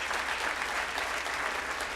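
Audience applause during a French-language stand-up comedy show, a dense, even roar of clapping from a full house, loud and sustained with no talk over it.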